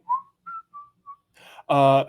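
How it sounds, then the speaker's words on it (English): Person whistling a few short, clear notes in a quick rising and falling pattern, followed by a brief murmur and then a louder, sustained voiced tone. "So I can whistle"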